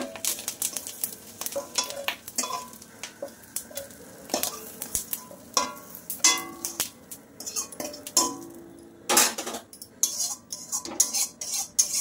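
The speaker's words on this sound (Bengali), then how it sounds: "দেখো ডিমগুলো ভাজা হয়ে গেছে, তুলে নেব" Fried eggs being lifted out of a wok, with a low sizzle under irregular metallic scrapes, clanks and taps of a utensil against the pan, loud and close, with no speech.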